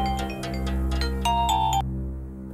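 A mobile phone plays a melodic ringtone for an incoming call in a Telugu film scene. The bright tonal notes repeat over a steady low hum for nearly two seconds, then cut off abruptly.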